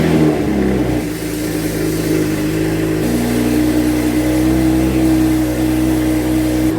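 Coolant pump on a BMW 335i running steadily under the hood, a loud continuous mechanical hum with a slight shift partway through, close and alone with no talk.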